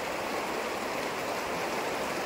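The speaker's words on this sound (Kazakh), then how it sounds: "Сол, Үлбі өзені деген осы ағайын." The Ulba river near Oskemen in East Kazakhstan rushes steadily, a dense continuous wash of flowing water without breaks, close and fairly loud.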